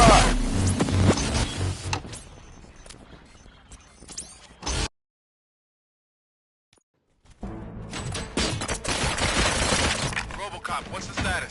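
Gunfire in the video game RoboCop: Rogue City on PS5, heard as dense rapid shots and crashing impacts, then an abrupt silence before another loud, busy stretch of combat noise resumes.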